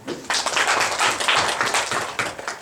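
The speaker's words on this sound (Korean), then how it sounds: "박수 한번 주세요." A short burst of hearty clapping from an audience at an orientation lecture, close and lively, rising quickly and holding steady before easing off slightly, with no talking.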